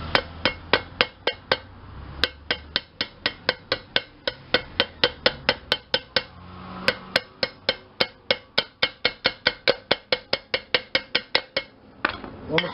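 Sharp metallic hammer strikes punching a hole ring out in quick succession, dozens of blows in a steady rhythm with short pauses, close and loud.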